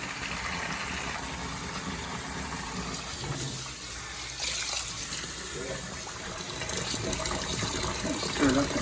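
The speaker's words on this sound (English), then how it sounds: "Okay, we're gonna add 2 liters of hot water." Two liters of hot water pour into a homebrew fermenter while brewing a Mosaic IPA, a steady gushing liquid rush that swells louder toward the end, with a person talking nearby.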